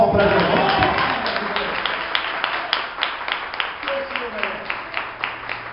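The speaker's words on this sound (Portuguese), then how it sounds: "Quem crê, dá uma salva de palmas para Jesus." A Baptist church congregation claps their hands together, starting as loud, dense applause that thins into a steady rhythmic clap in time, gradually fading over several seconds.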